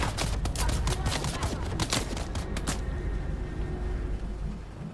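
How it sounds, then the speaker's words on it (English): Rapid machine gun fire in the video game Dune: Awakening, a dense burst of loud, close shots over a constant rumble that ends partway through, with game noise continuing after. "Machine gun."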